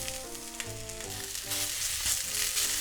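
Meat-wrapped rice balls sizzle and fry in a pan, a steady crackling hiss that grows louder partway through, heard close with faint background music and no talking.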